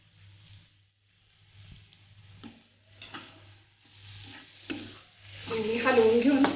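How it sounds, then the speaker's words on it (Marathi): Hadga flower bhaji being stirred in a pan with fresh coriander, soft cooked stems simmering over low gas; light scraping stirs and a gentle sizzle that grows louder toward the end, with a steady low hum underneath. "आणि हलवून घेऊन अजून 1 मिनिटभर शिजू देऊया आपण ही भाजी"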